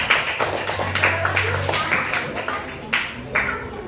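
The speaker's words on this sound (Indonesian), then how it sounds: "Tepuk tangan untuk kelompok 5" A class applauds group 5 at school with a few scattered, sparse claps in a quiet room, under some brief talk.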